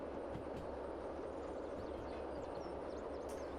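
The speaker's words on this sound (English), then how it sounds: "It's a noisy train." A locomotive in the Derail Valley train simulator rumbles steadily with a dense, continuous low roar and rattle, loud and unbroken throughout with no talking.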